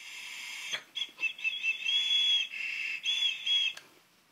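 Sharp whistling draw through a new Canadian-shape tobacco pipe, a thin steady high whistle rising and breaking in short bursts, close and fairly loud with brief pauses between pulls.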